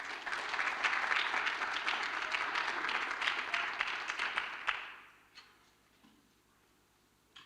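Awards dinner and gala audience applauding a presenter: a sustained, lively burst of many hands clapping for about five seconds, then fading quickly into quiet room tone.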